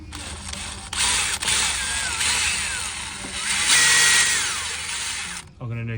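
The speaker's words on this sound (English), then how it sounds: "just drilling a pilot hole" A drill boring a pilot hole into a broken exhaust stud on an Audi RS6, a loud, steady high-pitched whine with shifting squeals as the bit bites into metal, running for about five seconds before cutting off.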